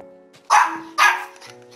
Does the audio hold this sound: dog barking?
yes